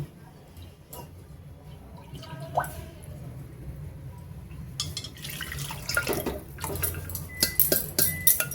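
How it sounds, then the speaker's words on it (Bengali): Mutton stock is poured into a hot pan to boil, giving a soft liquid splash and gurgle that grows louder toward the end, with a few clinks, against a low background hum. "এবার এটাতে আমি মাটনের স্টকটা দিয়ে দেব, স্টকটা দিয়ে ভালো করে ফুটিয়ে দেব।"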